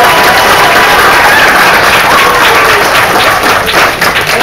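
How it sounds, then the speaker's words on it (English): An audience at a church Christmas play applauds the children with loud, sustained clapping, close and dense, tapering slightly toward the end. "Somebody give these babies a big round of applause."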